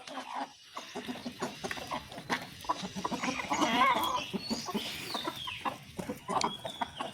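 Chickens being fed in the evening, with a busy mix of clucks and squawks rising and falling, close and fairly loud, and scattered rustling and scratching around them.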